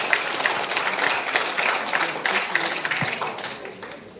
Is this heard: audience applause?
yes